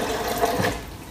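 Spring water pouring into a blender for a morning smoothie, a short continuous splashing, gurgling fill, close and fairly loud.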